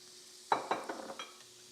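Garlic and shallots hit a hot pan with browned bits from cooked chicken; a sharp initial sizzle and clatter of stirring follow in a few quick bursts, close and fairly loud.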